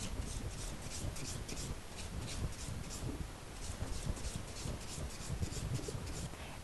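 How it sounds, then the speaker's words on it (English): Fingernails being buffed with a clean finish buffer during a manicure, a continuous soft scratchy rubbing in quick repeated strokes, close and fairly quiet, with no voices. "After filing all 10 nails, use the clean finish buffer and buff all 10 nails."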